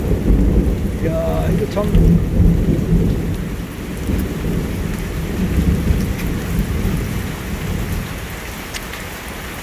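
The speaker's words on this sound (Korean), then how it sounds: "이거 뭐 천둥 소리가 요란하네요." Loud, close thunder rumbles and rolls over steady heavy rain in a summer thunderstorm, the booming swelling and fading across the whole stretch while a man briefly mutters.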